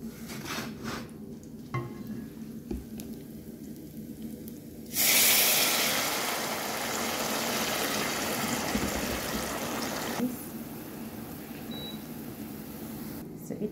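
Water poured into a hot pan of browned garlic and ginger bursts into a loud, sustained sizzle and hiss that gradually eases, preceded by quieter pan noise.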